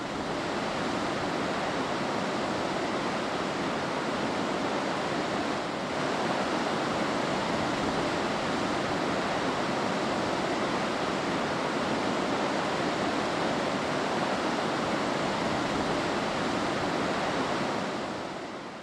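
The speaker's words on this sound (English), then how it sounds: "They consist of a river tumbling into a deep ravine from 3 directions" The Falls of Orchy in Glen Orchy, a river tumbling into a deep ravine, giving a loud, unbroken broadband roar of rushing water throughout.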